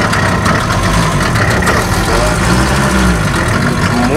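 A cold Mercedes T1 310 4x4 van engine idling slightly unevenly, a continuous low rumble with a rough, uneven pulse, heard close up and steady throughout.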